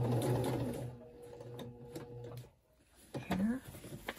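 A sewing machine runs in steady bursts as it stitches a rectangle, with a brief pause before the motor starts again, and quiet talk in between.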